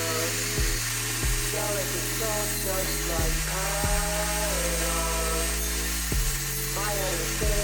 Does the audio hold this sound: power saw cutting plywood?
yes